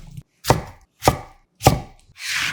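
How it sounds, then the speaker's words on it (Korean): A knife chops through dried cucumber pieces, cutting them into 3 cm lengths on a board. Three sharp, evenly spaced blows land close and loud, followed by a brief scraping sweep. "정리해서 3cm 길이 정도로 잘라주고"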